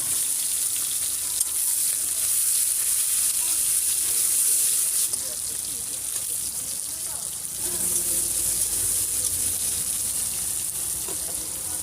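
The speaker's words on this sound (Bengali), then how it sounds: "ভালো করে ভাজা হয়ে গেছে টমেটো" Onion, tomato and garlic frying in a pan at a small hotel kitchen, a steady loud hiss and sizzle running throughout with some faint background voices.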